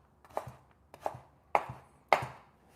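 Knife chopping vegetables into thin pieces for a Jamaican-style vegetable soup, four crisp, separate cuts against a board at a steady, unhurried pace, close up with no talking.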